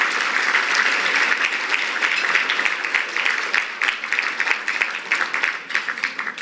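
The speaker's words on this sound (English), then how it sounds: "But again, can we give another round of applause for Professor Beydoun, please?" Gala dinner crowd claps steadily in a sustained round of applause, fairly close and loud, keeping an even rolling texture for the full few seconds.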